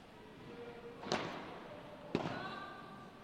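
Padel ball struck during a lob in a P2000 Lyon qualifying match, two sharp hits about a second apart, moderately loud over a low murmur of court ambience.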